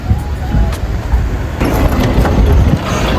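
Road traffic on a street in South Korea rumbles nearby, with low engine noise and passing vehicles, loud and steady with some faint higher tones.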